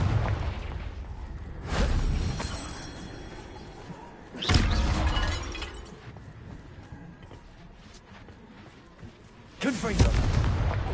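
Confringo fire spell cast in Hogwarts Legacy near ruined castle: three loud, booming blasts with whooshing bursts, each rising sharply then trailing off over a low ambient bed.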